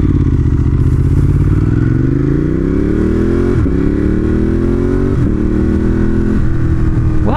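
A 2018 Ducati Monster 1200 S is ridden with its engine loud and close, pitch climbing smoothly through revs before brief shift dips and further pulls, with no talking.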